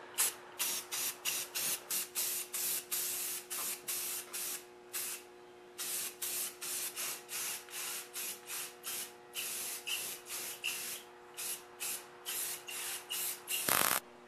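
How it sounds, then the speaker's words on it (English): Aerosol spray paint hisses onto a welding cart in a long series of short, even bursts separated by brief pauses, close and steady, with no one talking. "You want to spray on thin coats"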